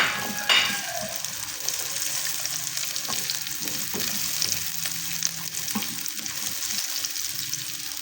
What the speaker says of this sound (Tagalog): isa-gisa natin saglit yung carrots